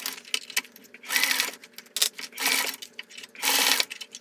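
A sewing machine stitching a fur-and-leather mitten, rapid mechanical chattering in bursts with short pauses between runs, close and moderately loud with no talking.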